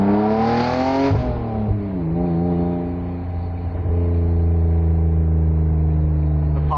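A BMW E36 with a Remus exhaust revs loud and close. The engine climbs, drops back with a pop-like crackle, then settles into a steady, droning idle-to-mid rev.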